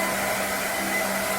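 A hair dryer blows on freshly painted acrylic on a flower pot, a steady close whirring drone with a constant tone and no break.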